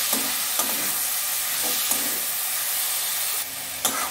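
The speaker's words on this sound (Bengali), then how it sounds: "আগে সয়াবিনগুলো দিয়ে একটু কষিয়ে নেব" Soybean chunks frying in spiced masala make a loud, continuous hissing sizzle, with several spatula scrapes and taps against the pan at irregular intervals.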